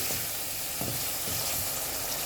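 Pieces of gathi kochu taro hit hot spiced oil and fry with a steady dense sizzle, with occasional soft stirring knocks, close and continuous.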